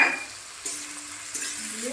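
A chicken egg curry with chili powder is stirred and sautéed in a pan, giving a soft sizzle with scraping stirs, close and quiet, and no talking.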